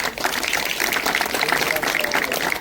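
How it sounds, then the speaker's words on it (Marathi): Applause for guest Manish Mhatre at a mini marathon event: a steady dense patter of crowd clapping, held evenly throughout with no clear peaks, with talk mixed in underneath. "सर्वप्रथम त्यांच्यासाठी जोरदार टाळ्या वाजवायचे"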